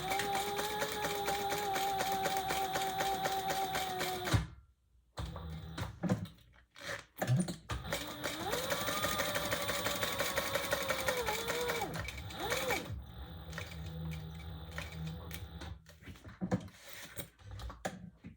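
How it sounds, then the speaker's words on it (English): A sewing machine stitches around the inside of a bag lining in steady, close running bursts, stopping briefly twice between runs, with no talk over it. "we're going to stitch around the inside"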